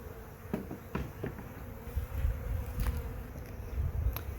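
A steady, close buzz of many honeybees humming together around a nuc box hive, with a few brief louder passes and small knocks and clicks throughout.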